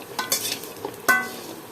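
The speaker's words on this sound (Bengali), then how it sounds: "ডালের বড়িটি ভাজতেছি।" Dried lentil dumplings (dal bori) frying in a pan, a light sizzle under a few scraping stirs and a sharp metallic clink of utensil on pan, close and fairly quiet.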